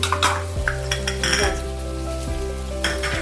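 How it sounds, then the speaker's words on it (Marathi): Mixed vegetables for pulao, including green beans, peas, cauliflower, potato and capsicum, being stirred in a pot, with close metallic spoon scrapes and clinks over a steady sizzle and a low background hum. "आणि हे आता आपण ह्याच्यामध्ये चांगलं मिक्स करून घ्यायचं"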